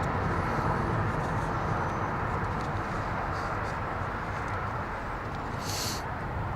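A Sun Country airliner taking off from Los Angeles International Airport, a steady broadband jet roar filling the whole stretch at moderate distance, with a brief hiss near the end.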